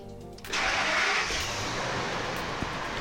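A Ford F250 pickup truck cranks and starts, a brief starter whir giving way to a loud, steady engine roar that settles into a constant idle, with no voices.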